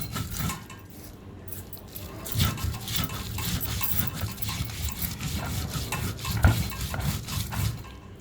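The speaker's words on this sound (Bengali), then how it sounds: "সব কিছুকে এখন একসাথে করে আরেকটা বাটা দিয়ে দিব আমি।" Boiled potato being mashed by hand in a bowl with dried fish, onion, salt and coriander leaves, giving soft repeated squishing and faint clinks of utensils against the dish, close and steady.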